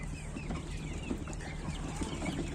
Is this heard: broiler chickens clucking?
yes